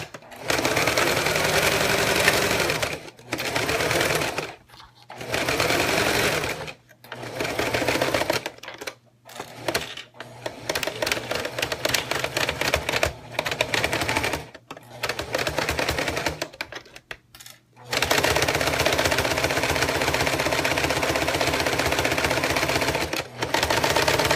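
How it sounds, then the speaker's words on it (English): A sewing machine stitches around four sides of a zipper project with fleece in bursts of fast, loud, buzzy whirring, separated by short pauses and ending in one long continuous run. "And we're just going to sew around."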